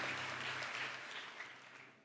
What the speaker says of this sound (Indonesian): Yang percaya kasih tepuk tangan buat Roh Kudus dulu